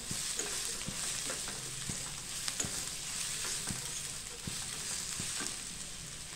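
Ground masala fries with onions in a pan for a dried bombil curry, making a soft continuous sizzle with regular light taps of a spoon stirring, close and alone.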